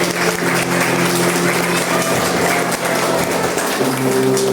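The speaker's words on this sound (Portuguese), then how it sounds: "Você pode aplaudir Jesus nessa noite." A church congregation applauding at an evening Baptist conference service, a dense, continuous wash of clapping from many hands filling the room throughout.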